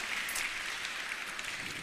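Audience applause at a university lecture hall event, a steady wash of clapping that holds evenly for the whole stretch without any voices.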